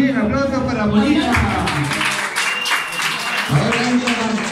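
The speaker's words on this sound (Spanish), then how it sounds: "aplausos para Molina." Applause from a gathering during a group photo, clapping mixed with loud voices and cheering that talk over it throughout, fairly close and busy.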